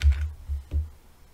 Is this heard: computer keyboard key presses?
yes